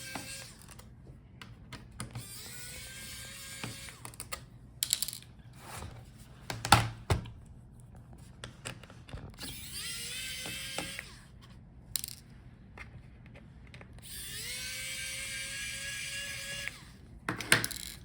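Small screws being backed out of the bottom case of an HP Pavilion Aero 13z laptop with a powered driver, several short whirring bursts separated by quiet pauses and light clicks of the screws.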